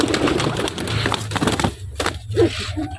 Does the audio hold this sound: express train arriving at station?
no